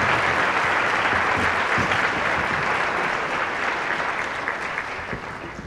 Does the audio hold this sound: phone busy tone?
no